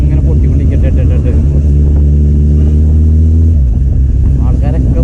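A Kawasaki Z800 motorcycle with an aftermarket exhaust revs with a loud, close, throaty roar that holds steady, then drops sharply as the throttle is released, leaving a rougher rumbling exhaust tone.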